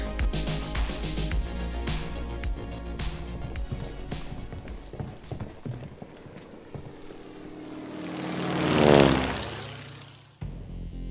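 An airplane in flight roars past, its engine drone rising to a loud peak and sweeping down as it fades away, following a stretch of scuffing and thudding movement sounds.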